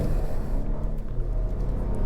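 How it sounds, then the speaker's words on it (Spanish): A 2020 Volvo S90 with 310 horsepower accelerating in Dynamic high-performance mode, its engine giving a steady, loud, deep rumble from inside the car with no talking. "Está haciendo un sonido brutal este coche"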